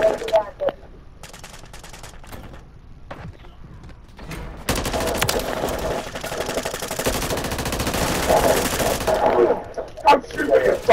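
Rapid automatic gunfire in a video-game firefight, bursts and sustained volleys of shots running loud and continuous through most of the clip, with a voice heard under the shooting.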